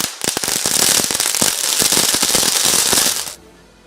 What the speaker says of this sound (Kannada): ಕಾರ್ಯಕರ್ತರು ಪಟಾಕಿ ಸಿಡಿಸಿ ಸಿಹಿ ಹಂಚಿ ಸಂಭ್ರಮಿಸಿದ್ದಾರೆ